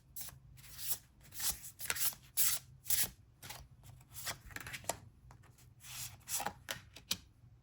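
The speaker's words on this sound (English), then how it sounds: "I'm going to be drawing some Magical Spirit Oracle cards." Magical Spirit Oracle cards being shuffled and handled up close, a steady run of crisp riffling and slapping bursts with brief pauses, no voice.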